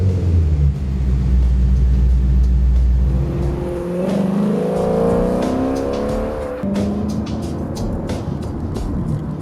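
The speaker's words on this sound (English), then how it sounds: "It has a better exhaust note." A Maserati Gransport engine revs up loudly with a deep, rumbling exhaust note, rising in pitch then settling, with sharp crackles near the end.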